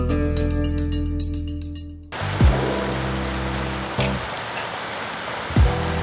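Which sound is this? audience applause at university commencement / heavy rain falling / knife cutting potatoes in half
heavy rain falling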